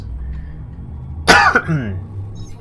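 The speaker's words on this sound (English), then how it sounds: "this cough I've got, by the way, don't know where it came from" A man coughs once in a short, harsh burst followed by a brief rasping throat-clearing tail, close and fairly loud over a low steady hum, during a relaxed gaming session.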